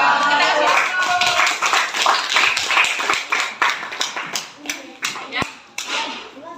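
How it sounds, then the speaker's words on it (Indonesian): Audience applause following a group's classroom presentation, a dense burst of many hands clapping that thins out into scattered individual claps over several seconds. "Kita kasih aplaus."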